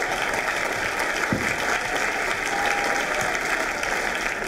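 A classroom audience at a student writers' event gives the presenters steady, moderately loud applause from a small crowd, continuous and even throughout.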